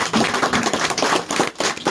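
Congregation clapping in a church service during a sermon on speaking in tongues, dense steady handclaps from many people filling the space, loud and continuous.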